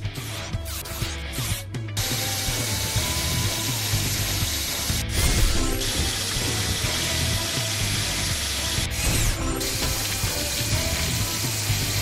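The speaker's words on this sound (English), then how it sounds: "Drill. Move this to place the drill." Continuous mechanical whirring and ratcheting of a toy drill in a Paw Patrol video game, grinding steadily, with brief bursts of louder spray-like noise.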